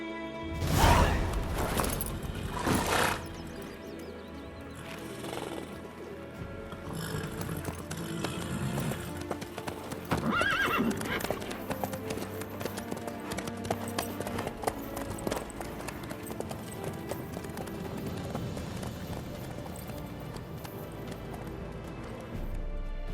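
A horse in The Witcher 3 clip-clops along in a steady hoofbeat rhythm for a long stretch, with a whinny near the start and faint game ambience underneath.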